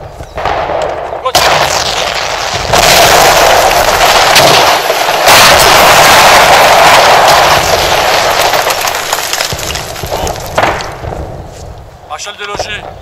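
Artillery barrage shelling in a war video game, loud sustained rumbling blasts and explosions that build and roll on for several seconds before easing off. Someone speaks French over the bombardment.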